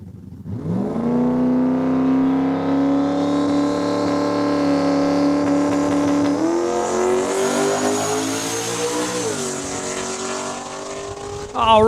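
A black Ford Mustang roars down the drag strip at Saskatchewan International Raceway, its engine holding a steady loud drone that climbs through gear changes before easing off, with a faint tire squeal near the end.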